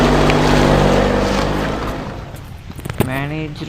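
A vehicle in the horror video game Dark Pursuer starts up and pulls away, a loud steady engine drone that thins out as it drives off, leaving softer rumbling and a sharp knock near the end.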